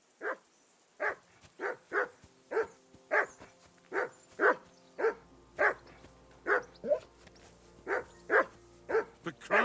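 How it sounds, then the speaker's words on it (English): Dog in the video game Kingdom Come Deliverance II barking repeatedly in a steady rhythm, about a dozen sharp, evenly spaced barks, clear and fairly close, alone without talk. "I assume you can hear that damn dog of yours barking."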